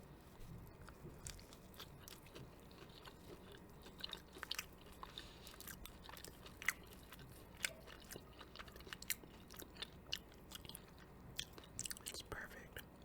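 Someone eats whiting fish close to the mic in a quiet room, with soft irregular bites and chewing clicks scattered through a low background hush.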